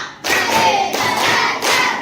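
Schoolchildren in a classroom clap a counted five-beat pattern, a dense burst of many hands in loud, bunched groups separated by short breaks, filling the room up close.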